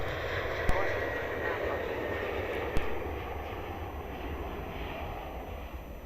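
A Qantas jet airliner departing Melbourne Airport on runway 16 gives a steady, broad engine roar throughout, with two brief clicks and faint radio chatter in the background.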